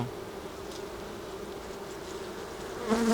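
Honeybees buzz steadily at an open hive during swarm-prevention work, a dense continuous hum holding at an even level throughout with a slightly louder close pass near the end.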